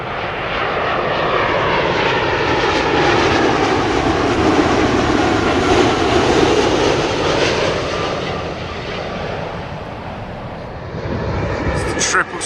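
An American Airlines Boeing 777-200 arriving from Charlotte lands at Heathrow, its jet engines producing a loud, sustained roar that swells and then eases slightly toward the end.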